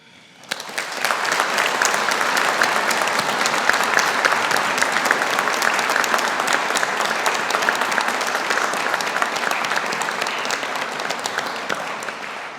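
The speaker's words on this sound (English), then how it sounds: "let us take the opportunity to show our appreciation and gratitude to all of those who have supported you with a round of applause" Sustained applause from a large audience at a university graduation ceremony, starting abruptly and holding steady and loud for several seconds before easing slightly.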